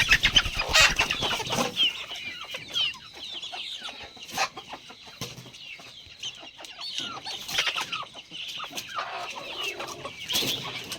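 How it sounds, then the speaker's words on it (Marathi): Desi village hens roosting at night on perches in a poultry shed cluck and chatter in many overlapping, scattered calls, close and fairly loud, with occasional sharper squawks. "तर अशा पद्धतीने आपल्या ज्या कोंबड्या आहेत त्या रात्रीच्या वरती बसतात"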